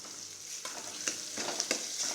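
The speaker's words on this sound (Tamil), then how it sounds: "அப்படியே 2 நிமிஷம் வெங்காயம், பச்சை மிளகாய், தக்காளி எல்லாமே வதங்கிட்டு இருக்கட்டும்." Onion, green chilli, tomato and curry leaves sizzle in a pan, an even crackling hiss broken by several sharp scraping strokes of a spoon stirring the mix, close and without voices.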